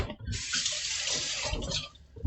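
Running water from a kitchen tap splashes steadily as something is rinsed beneath it, close and continuous for a couple of seconds.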